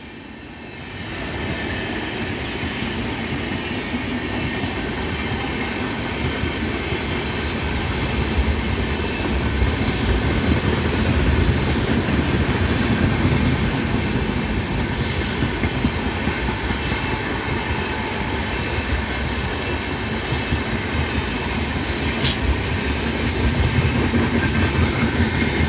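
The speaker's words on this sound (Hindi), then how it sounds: "और ये जलपाई न्यू जलपाईगुड़ी नई दिल्ली सुपर फास्ट 12523" The New Jalpaiguri–New Delhi Superfast 12523, hauled by locomotive 30692, rumbles past on Indian rails with a loud, sustained roar of wheels and coaches that holds steady for over twenty seconds.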